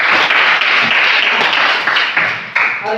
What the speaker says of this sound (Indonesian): Tepuk tangan untuk mahasiswa.